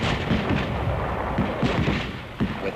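Heavy WW2 combat fire from rifles, BARs and mortars, a dense continuous barrage of overlapping booms and cracks with several sharper blasts standing out, loud and close.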